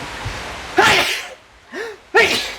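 A person sneezes twice at close range, each a sharp loud burst, preceded by a short voiced intake of breath.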